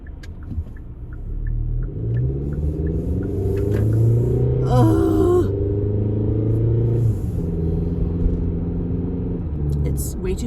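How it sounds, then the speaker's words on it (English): Road traffic in Florida heard from inside a moving vehicle, a low continuous rumble with engine tones rising and falling, while people talk over it. "look at all this traffic."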